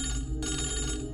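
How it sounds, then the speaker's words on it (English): A telephone bell rings steadily and close, with a dense metallic trill that holds for the whole moment, a slight break in its pattern partway through. "The phone rang twice."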